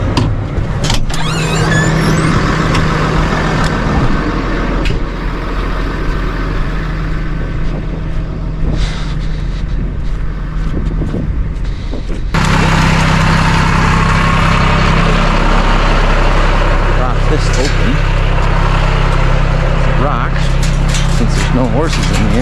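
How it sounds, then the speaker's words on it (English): A farm tractor engine idles with a steady deep rumble on a manure-spreading job, growing louder and rougher partway through, while someone talks over it. "I'm gonna go get that other tractor, get it in position"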